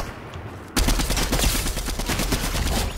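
Fortnite gunfire erupts abruptly after a low background hum, a loud, rapid stream of automatic shots rattling on steadily without pause and without talk.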